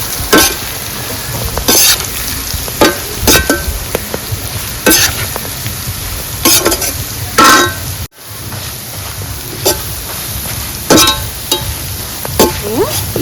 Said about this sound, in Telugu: ఇప్పుడు ఈ రుబ్బి పెట్టుకున్న కారాన్ని కూడా వేసేసుకుందాం. కారం కలిసేటట్టు తిప్పుకుందాం.